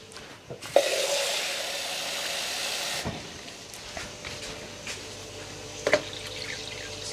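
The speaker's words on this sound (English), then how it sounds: "get your water again and just fill that right up to the top" Water poured from a container to fill it right to the top for a yogurt curry, a continuous splashing pour for about two seconds followed by quieter drips and handling knocks, with no talking.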